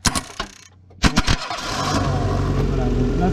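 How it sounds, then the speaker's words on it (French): Starter motor on a Renault Clio 2 1.2 petrol car, bridged with a screwdriver: a few sharp clicks and brief whirring bursts, then the engine fires and keeps running at a steady close idle. "là, ça nous fait tourner le démarreur et ça nous fait démarrer"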